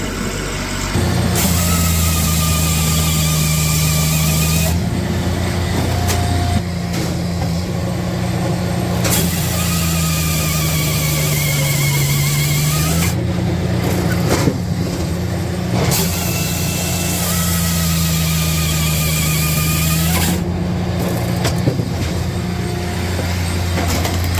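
A chainsaw, its chain freshly primed with bar oil, cuts a log with a loud, sustained engine drone that rises in pitch under load and falls back in repeated cycles, close up and with no talk.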